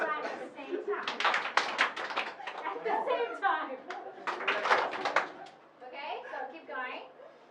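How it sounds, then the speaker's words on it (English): A group at a workshop exercise in Hong Kong claps hands and taps their legs, sharp irregular claps and slaps mixed with a leader talking over them and others chattering nearby. "jump and clap at the same time"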